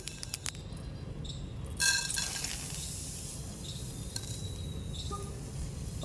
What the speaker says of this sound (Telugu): నువ్వులు వేగిపోయినాయి